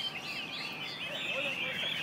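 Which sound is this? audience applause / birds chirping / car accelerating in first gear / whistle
birds chirping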